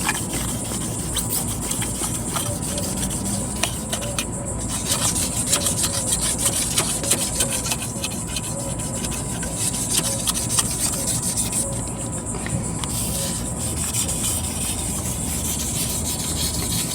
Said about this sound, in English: I'm gonna wet sand this with 2000 sandpaper.